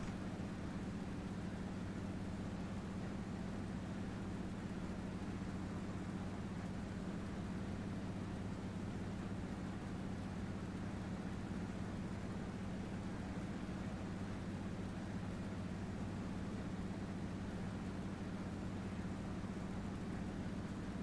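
A T-6 Texan aircraft in the Prepar3D flight simulator cruises and climbs gently, its engine a faint, steady low drone with a constant hum and no changes in pitch throughout.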